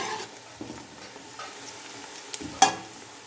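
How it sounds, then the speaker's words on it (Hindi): Onions fry and sizzle in a pan with occasional stirring, a soft steady hiss punctuated by a couple of scraping clicks from the spoon, close and without talk. "प्याज को हमने अच्छी तरह गोल्डन ब्राउन करना है।"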